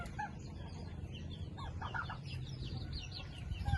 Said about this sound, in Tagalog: Yan yung mga pabo. Ang pato.